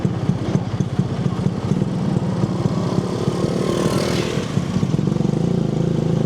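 Honda 125cc motorcycle engine, a close, steady rapid putter with a fast regular rhythm, briefly swelling in pitch midway as it revs, with no talk over it.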